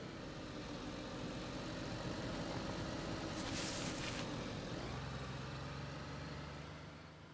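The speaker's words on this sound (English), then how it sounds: "I heard a vehicle engine." A vehicle engine in the DayZ video game runs as a steady low rumble throughout, its pitch dropping slightly near the end as the sound fades off.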